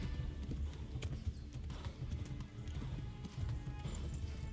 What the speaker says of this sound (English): I'm gonna stop galloping then to gain some stamina back and stop the horse from heading me.